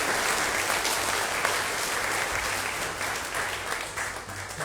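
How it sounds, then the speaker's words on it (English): A round of applause from the audience for award winners at an Australia Day awards and citizenship ceremony in North Burnett, steady, full clapping from a crowd that carries on throughout. "Please join me in a round of applause to congratulate all of our 2024 award winners."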